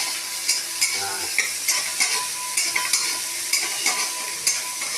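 Onions and garlic sizzle steadily in hot oil in a pan, prepared for a water spinach stir-fry, with sharp scraping stirs of the spatula every half second or so, close and moderately loud.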